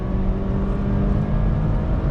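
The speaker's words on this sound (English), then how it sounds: "Decent sound coming from the engine." Turbocharged four-cylinder engine of a 2020 Audi A4 Allroad wagon pulling under throttle after a U-turn, a steady, loud, continuous drone heard from inside the car with no talking.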